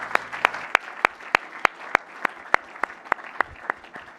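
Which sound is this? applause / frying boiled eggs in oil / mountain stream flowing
applause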